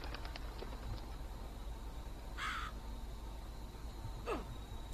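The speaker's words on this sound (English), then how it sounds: "That bird just attacked me." A crow caws sharply twice in a video game, short harsh calls standing out over a faint, steady background hum.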